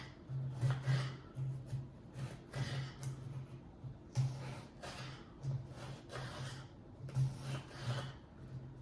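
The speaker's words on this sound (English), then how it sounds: "I'm slicing and dicing some multicolored peppers" A knife slicing orange, yellow and red peppers into thin strips on a board, a quiet, regular series of soft cutting strokes and knocks repeating roughly every second, close and alone.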